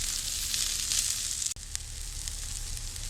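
Chopped onions sauté in a pan for a restaurant-style navratna korma, with a steady, loud, close hiss of frying broken by one brief dip and a couple of faint stirring clicks, and no talk.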